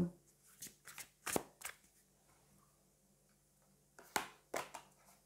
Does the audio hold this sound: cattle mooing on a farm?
no